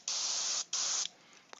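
Two bursts of black primer hiss from a spray can, each a loud, steady rush of about half a second with a brief gap between, followed by faint clicks and quiet.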